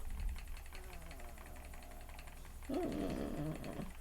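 A dog whimpers and whines softly over a low engine hum, a brief rising whine near the end standing out from the background.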